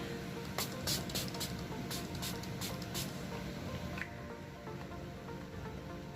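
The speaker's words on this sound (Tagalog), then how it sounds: "gusto ko rin mag-setting spray. So, gamit ako ng setting spray." A makeup setting spray bottle is pumped several times in quick succession. Each one is a short, airy hiss, close and over steady background noise, followed by a quieter stretch.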